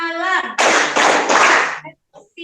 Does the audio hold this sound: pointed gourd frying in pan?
no